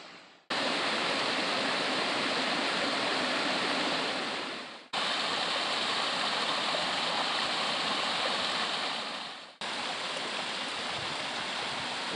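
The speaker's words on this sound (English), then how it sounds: "So the trail's now running on the side of this creek here." Baskins Creek in the Great Smoky Mountains flows steadily beside a hiking trail, a loud, close, continuous rush of water broken by two brief cuts.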